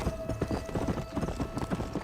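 Horse hooves clip-clop in a steady, fairly quick rhythm in the video game Red Dead Redemption, close and continuous.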